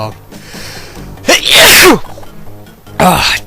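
A man sneezes twice in quick succession, loud and close to the microphone, each a sharp burst after a brief indrawn breath.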